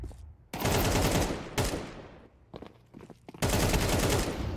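Repeated bursts of automatic gunfire fill a Counter-Strike esports semifinal match: loud, close rattling volleys start and stop three times, with short quieter gaps between them.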